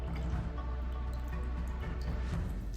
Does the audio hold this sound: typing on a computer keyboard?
no